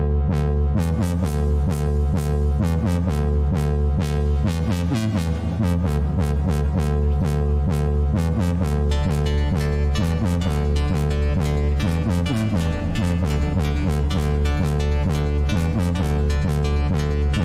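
Dance music mix with its high frequencies restored, playing loud and continuous with steady driving beats, a sustained bass and chordal layers, and bright percussive hits across the top.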